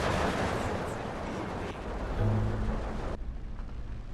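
Five-hundred-kilogram bombs dropped by P-40 aircraft explode in the WW2 strategy game Steel Division 2. The result is a dense, rumbling barrage of blasts that swells mid-clip and then cuts off abruptly into quieter background rumble.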